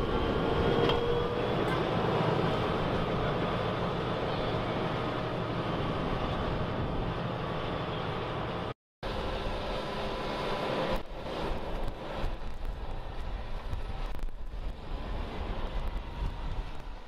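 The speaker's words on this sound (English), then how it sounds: "And away it goes, back, turning the soil over, incorporating the lime which has been spread on this field" A Fendt 936 Vario tractor pulls a plough across a limed field, turning the soil; a loud, steady engine-and-machinery roar runs throughout, with one brief dropout midway.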